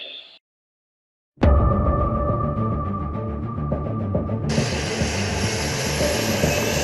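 An Akıncı TİHA drone's systems power up after a short hush: a loud, steady broadband machine whine and hum begins abruptly and holds, with a brighter high-pitched hiss joining partway through, no voices present.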